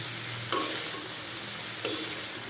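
Cauliflower, cabbage, potato and carrot cooking in a pan: a steady, soft sizzle with two brief sharp clinks of a utensil against the pan, close and alone.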